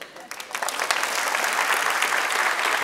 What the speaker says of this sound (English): now again, I'm going to clap, and I want you to point in the direction of my clapping.